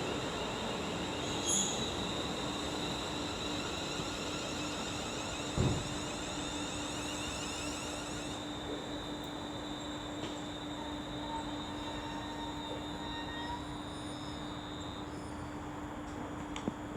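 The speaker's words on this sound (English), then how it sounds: "now coming in will be a terminating West Midlands Railway service from Birmingham" A West Midlands Railway service from Birmingham pulls into Rugeley Trent Valley station on the West Coast Main Line, a long steady rumble with sustained high wheel squeal and a brief clunk partway through.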